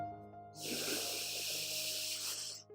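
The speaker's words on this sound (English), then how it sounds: "you constrict the throat muscles slightly to create a snoring-like sound" Ujjayi breathing, air drawn slowly through a slightly constricted throat in a yogic breathing exercise, makes a steady, close, hissing, soft-snoring rush that lasts about two seconds and then fades. No one speaks.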